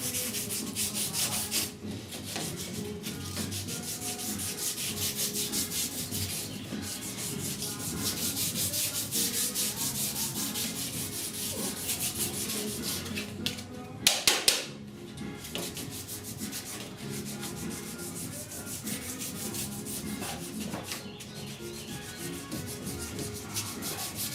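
A sanding block rubs steadily back and forth over primer surfacer on the rusty roof of a 1969 C10 truck, a continuous close scraping rasp with one brief pause and a few knocks midway.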